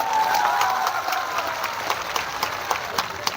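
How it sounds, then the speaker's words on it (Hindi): A crowd at a farmers' mahapanchayat in Mewat claps loudly and steadily in dense, continuous applause, with a few sharper individual claps standing out as it carries on. "एक बार जोरदार ताली बजानी तो इनके लिए बजाओ।"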